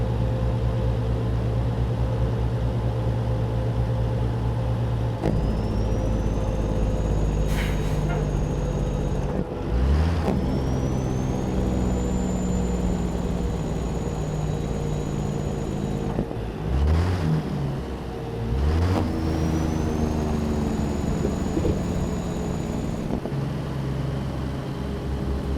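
Heavy truck engine in American Truck Simulator revving up through the gears in a steady loud drone, with rising whine sweeps as the revs climb three times and brief dips between shifts.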